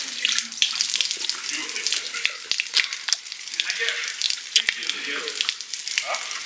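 Fresh drinking water runs steadily from a tap at a retreat in Austria, a close, continuous hiss and splash with small irregular splatters and ticks.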